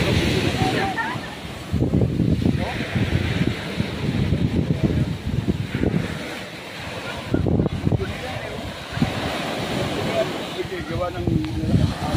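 Strong sea waves surging on a beach at Taling-Taling, Albay, a loud continuous roar of surf with wind buffeting, mixed with people talking throughout.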